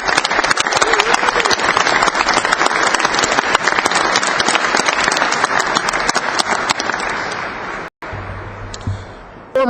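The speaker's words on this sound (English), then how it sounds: "give him his recognition and a huge round of applause for his strong statement" Rally audience at an anti-EFCA event in Harrisburg, Pennsylvania, claps loudly and steadily for about eight seconds with dense, sustained applause, then it stops abruptly and the room goes quiet.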